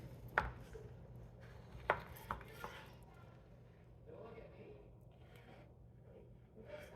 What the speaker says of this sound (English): now I'm just going to cut it into steaks, cutting it with the grain.